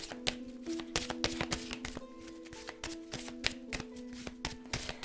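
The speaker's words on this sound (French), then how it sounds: "Je vais vous tirer les 4 lames pour l'extension." Tarot cards shuffled and drawn by hand, a steady run of close, crisp taps and slaps over several seconds above a faint steady tonal hum, with no one talking.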